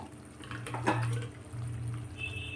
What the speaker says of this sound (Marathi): जारमधलं पाणी घालूया आपण मिक्सरच्या